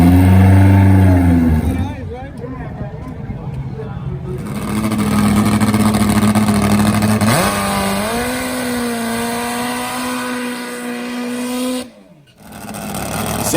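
Supercharged Harley-Davidson top fuel nitro drag motorcycle engine, loud and close, revving hard with rising pitch, dipping briefly, then climbing again before a sharp cutoff and restart near the end.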